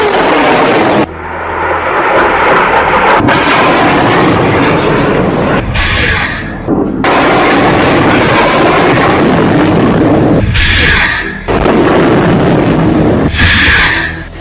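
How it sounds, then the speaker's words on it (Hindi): Hamas rockets launch one after another in a loud, continuous roaring rush, broken by abrupt cuts and fresh bursts, harsh and overpowering throughout. "एक के बाद एक हमास 10 रॉकेट फायर करता है"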